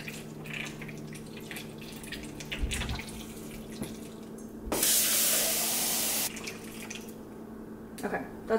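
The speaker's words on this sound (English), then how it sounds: "last step is just to pour water in this little contraption" Water is poured into a small electric indoor plant-growing contraption, a bright rushing splash lasting about a second and a half midway, set between quieter handling noises and faint trickles at close range.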